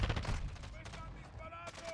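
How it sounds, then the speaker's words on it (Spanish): Gunfire in the video game Call of Duty Warzone, a rapid burst of shots up front fading into scattered reports, fairly faint with some other game sounds mixed in. "¡Me están disparando!"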